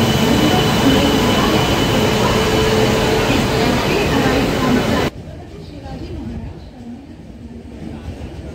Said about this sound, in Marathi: 22105 इंद्रायणी एक्सप्रेसने आपला पुढचा प्रवास होणार आहे